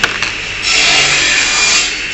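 A small power edge trimmer with a triangular head works over the bodywork of a classic Mini during restoration, giving a steady, close, rasping buzz that starts after a couple of brief touches and runs on evenly.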